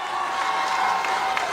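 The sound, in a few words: basketball crowd cheering near end of the quarter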